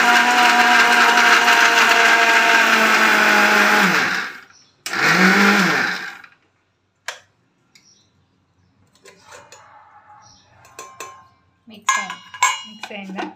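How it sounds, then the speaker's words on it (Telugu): A kitchen mixer grinder powders biscuits for a no-oven chocolate cake, roaring loud and steady for about four seconds, then a second short burst, followed by quieter clinks of the jar and utensils. "ఇప్పుడు మిక్సీ పెట్టింది."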